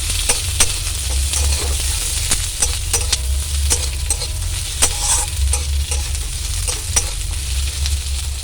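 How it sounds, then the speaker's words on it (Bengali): Onion sizzles in hot oil in a pan for chilli chicken while a spatula stirs it, producing a constant crackling fry punctuated by regular scraping clicks, close and loud with no voices. "পেঁয়াজটা একটু লাল লাল করে ভেজে নেব।"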